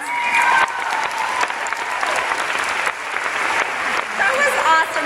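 An audience breaks into loud, dense applause after a performance, a steady wash of many hands clapping with occasional whoops, carrying on for several seconds.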